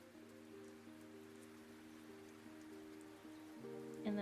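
Soft, even patter of rain from an ambience app plays quietly under low sustained tonal background hum, faint and continuous with no voices.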